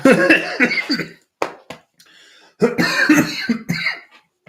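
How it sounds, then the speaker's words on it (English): A person coughs hard in two harsh, raspy fits separated by a short quiet gap, close and loud. "there's a cough in there."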